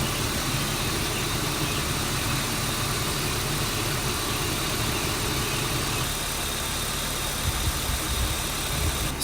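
A BMW E36 engine idles steadily during a coolant flush. The low, even hum is close and constant for the whole stretch, with no voices.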